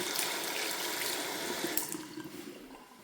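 A tap runs close by in a hospital restroom, splashing into a washbasin, then the flow tapers and thins toward the end.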